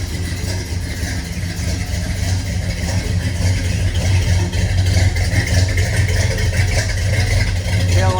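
A 1972 Oldsmobile Hurst with a 455 big block V8 runs steadily at a low, even rumble, close and continuous with no talk.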